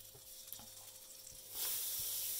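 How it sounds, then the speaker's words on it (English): Soft, steady sizzling of butter melting in a hot pan that swells louder partway through and continues as a bright, crackling hiss. "we want to just melt the butter"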